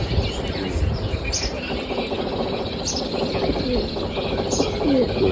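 A flock of pigeons gathered from different villages coos and chirps continuously at close range over a dense, noisy outdoor background, with a faint voice in the mix.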